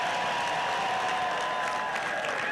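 Audience applause at a 2010 election-night campaign event, a steady dense wash of many hands clapping at moderate distance, sustained evenly throughout with faint crowd murmur underneath.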